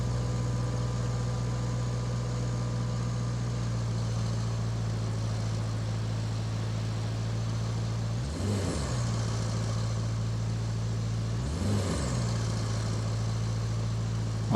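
A truck engine in the video game Roadcraft labors up a small hill, a low steady droning hum held throughout, with two brief swells as it works harder.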